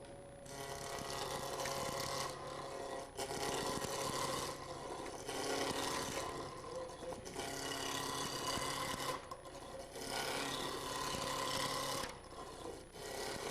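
A spindle roughing gouge cuts a square wood blank, a little under 3 by 3, on a spinning lathe, producing a loud continuous rough scraping and hiss that swells and eases in pulses as the tool passes along.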